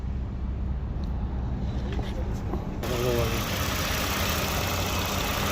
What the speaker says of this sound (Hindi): अभी हमने गाड़ी को स्टार्ट किया, एसी को ऑन किया।